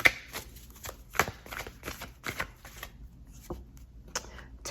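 Tarot cards handled and laid out in a spread on a table, with soft irregular slaps, flicks and shuffling rustles at close range, fairly quiet throughout.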